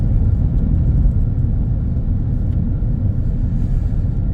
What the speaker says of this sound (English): I generally put the car in neutral here and coast to the village.